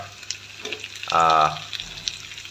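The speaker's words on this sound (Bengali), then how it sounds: "পরিমাণ মতো লবণটা দিয়ে আমরা পেঁয়াজটাকে একটু ভালো মতো ভাজি করে নিচ্ছি" Onions and koi fish frying in a pan on very low heat, soft intermittent sizzling with a brief louder burst of crackle midway, heard up close.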